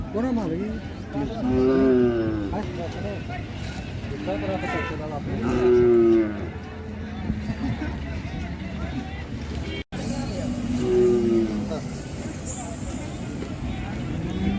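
Khillar cattle moo repeatedly at a busy livestock market, several long low calls rising over a steady murmur of crowd chatter and voices close by.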